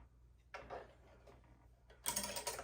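Small mechanical clicks and plastic rattles close by as bobbins are popped out of a sewing machine, ending in a louder scraping clatter.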